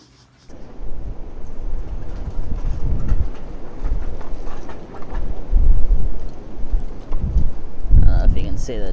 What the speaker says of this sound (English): this wind is gnarly today. This wind's pretty insane today.